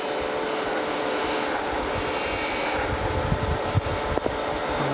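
A surface grinder's wheel grinds a cast iron camel back straight edge with only a barely touching pass, giving a steady, loud, continuous rushing hiss with a few small scrapes near the end.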